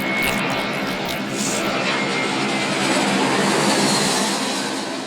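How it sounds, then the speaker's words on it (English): An airplane in the video game Genital Jousting takes off, with a steady, loud engine roar and rushing noise that holds for several seconds, close and continuous, with no speech over it. "When the acceleration of takeoff had slackened"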